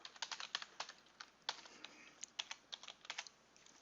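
Quiet, rapid keyboard typing as an email address and password are entered, with irregular clusters of light key clicks at close range.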